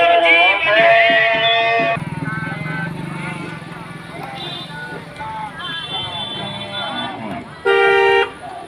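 Rally vehicles from Rajasthan moving in a convoy, honking repeatedly with long, bright horn blasts, the loudest a sustained toot near the end, over a rumbling engine bed and a voice talking.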